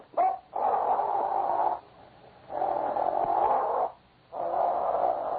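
A dog barks in a 1950s Yukon adventure radio drama, three long, loud, sustained howling barks separated by short pauses, with no talk over them.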